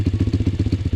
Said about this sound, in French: on va quand même passer au démarrage de la moto.